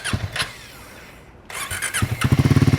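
A Triumph Scrambler 400X single-cylinder engine with a dual-tip exhaust fires up and settles into a close, loud, thumping beat of rapid, even pulses, with a brief quiet gap before it starts.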